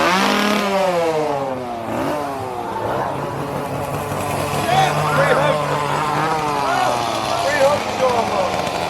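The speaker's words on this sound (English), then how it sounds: "we got a bunny with a chainsaw." A chainsaw engine revs up and down repeatedly at a Halloween theme-park event, its whine rising and falling, while people talk loudly over it.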